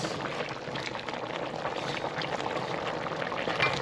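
Jamaican oxtail simmers in a pot with a steady, close bubbling and hiss that runs evenly throughout, with no talking.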